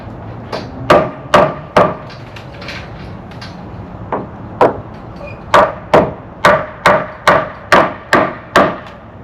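Hammer blows on wooden decking of a big covered porch on a historic 1860s cottage, sharp close knocks in irregular clusters, a few spaced strikes and then a steady run of evenly paced hits.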